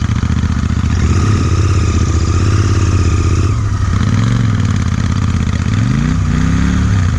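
A Royal Enfield Interceptor 650 motorcycle engine rumbles loud and close off-road, with its pitch climbing and falling as the throttle is blipped.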